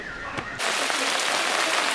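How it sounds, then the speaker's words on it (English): Heavy rain pours onto the jungle canopy, a dense, steady broadband hiss that swells in loudly after a brief quieter start and holds without a break. "Like you can hear the rain hitting and it's starting to fall through"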